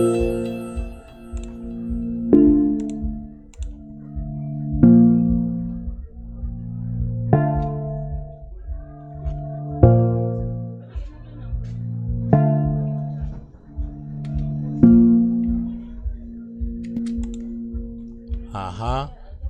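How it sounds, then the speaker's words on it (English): A stock jazz guitar plugin playing in an FL Studio beat for a Ugandan-style track, loud and close, with a steady pattern of chord hits repeating roughly every two and a half seconds and a brief pitch-bending flourish at the end. "I added a jazz guitar,"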